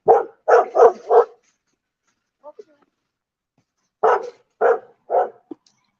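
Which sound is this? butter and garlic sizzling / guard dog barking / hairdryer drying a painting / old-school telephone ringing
guard dog barking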